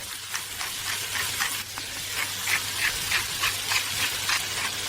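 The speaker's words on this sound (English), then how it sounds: "Everything here is getting nicely sautéed." Onions sautéing in a pan for an onion meatloaf, a steady close sizzle with rhythmic bursts as the pieces are stirred and tossed, no talk.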